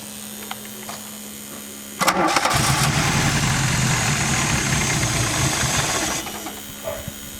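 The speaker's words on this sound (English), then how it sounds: "start the engine" A 32-year-old car engine cranks and catches, then runs at a loud steady idle for about four seconds before dying away, leaving a quiet hum.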